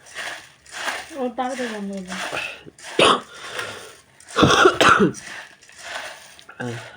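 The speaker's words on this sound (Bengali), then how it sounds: "ঠান্ডা কাশি হয়েছে" A person with a cold coughs and clears the throat several times in short, loud bursts close to the microphone, mixed with brief vocal sounds.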